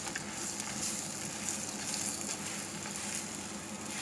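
Egg paratha sizzles steadily in desi ghee on a pan over a low flame, a continuous close frying crackle with no pauses and no voices.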